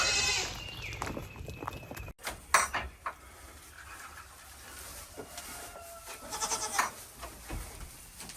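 Several goats bleat at intervals, close by, over a busy farmyard background with occasional clanks.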